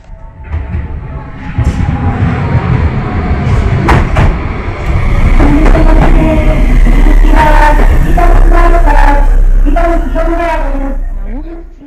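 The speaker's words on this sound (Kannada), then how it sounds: "ಇವಾಗ ಈ ಯೆಲ್ಲೋ ಕಲರ್ ಟ್ರೈನ್ ಬರ್ತಾ ಇದೆ" A yellow commuter train pulls into a Tokyo station. Its low rumble swells as it nears, then high brake squeals and clanks sound as it slows, with voices heard over the noise.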